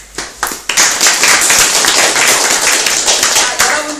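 A crowd at a Korean human library talk applauds to welcome a social worker as he is introduced, with a few scattered claps first and then dense, steady clapping that carries on to the end.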